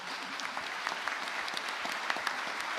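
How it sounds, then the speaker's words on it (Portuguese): A church congregation applauds in a light, scattered patter of handclaps with some sharper individual claps standing out, fairly faint and distant throughout. "uma grande salva de palmas para esses queridos"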